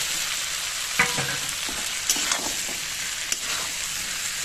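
Fried potato and pumpkin pieces sizzle in a pan of spinach and prawns, a close steady hiss broken by a few scraping stirs of the spatula, with no talk.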